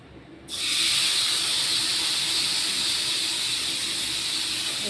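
Hand-mixed food tipped into a hot wok, bursting into a loud, sustained hiss and sizzle after a brief quiet start, steady and close with no talk.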